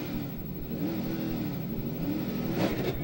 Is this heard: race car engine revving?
yes